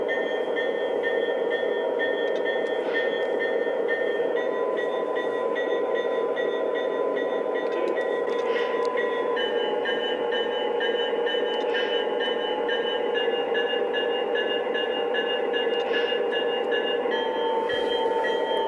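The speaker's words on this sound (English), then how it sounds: "Let's check out the bell. You do aux 1 and then the bell to change the bell sound." Electronic bell of a Lionel Legacy GN NW2 model diesel switcher rings steadily and continuously, a repeating metallic clang that shifts tone partway through as different bell sounds are selected, heard alone over a faint hum.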